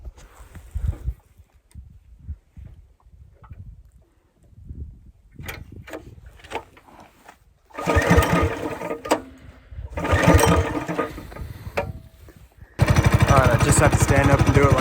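Trail Master Hurricane 200X motorcycle being pull-started: rough bursts of cranking and sputtering, then the engine catches into a loud, steady close idle that runs to the end.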